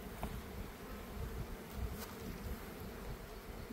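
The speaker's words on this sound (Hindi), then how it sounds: "मक्खी डिस्टर्ब हो रही है।" Disturbed honey bees buzz at an open hive in a dense, steady drone, close and continuous with small swells and no talking.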